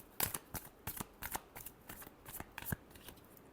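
Tarot cards shuffled by hand in a quiet room, a run of about a dozen crisp riffling snaps in an uneven rhythm, close and fairly soft, with no talking.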